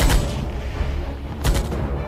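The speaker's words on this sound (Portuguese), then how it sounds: "Os tiros disparados durante o assalto foram gravados por moradores assustados" Gunshots ring out during a bank robbery, recorded by frightened residents: two loud, echoing blasts about a second and a half apart, each trailing off into a noisy, reverberant background.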